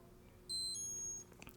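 A Seiko Panda chronograph watch alarm gives thin, high electronic beeps in a short burst lasting under a second, followed by faint clicks and a sharper final beep, with no talking.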